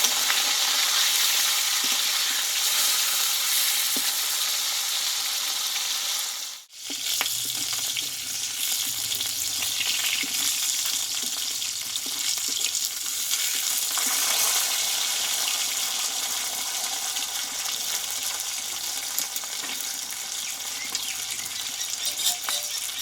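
Fish pieces sizzle and spit steadily in hot oil in a pan, a loud, close, continuous crackle that dips briefly once early on and carries faint utensil rattles, with no voices.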